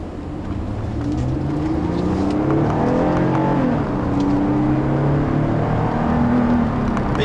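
From inside the cabin, a 2011 Toyota Avalon with a 268-horsepower engine accelerates on a test drive. Its steady engine drone climbs in pitch and holds loud and even throughout.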